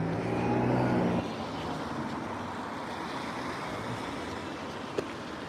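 Cars racing past at high speed on a road, a loud rushing roar that swells at the start then settles into a broad steady whoosh of passing traffic.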